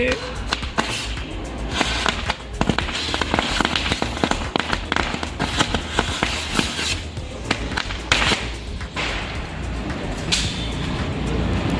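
Diwali firecrackers burst in rapid, dense crackling volleys for the whole stretch, loud and continuous with sharp pops piling over one another outdoors.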